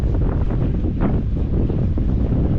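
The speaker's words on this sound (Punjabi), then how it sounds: "ਲੋ ਜੀ ਨੇਰੀ ਚੱਲ ਪਈ ਨੇਰੀ" Strong wind blows across an open farm field being readied for paddy planting, a loud, continuous roar buffeting the microphone throughout, steady with no pauses.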